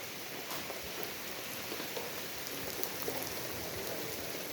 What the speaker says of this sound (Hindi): ये ग्रीनरी भी और बारिश भी यहाँ पे काफ़ी हो रही है।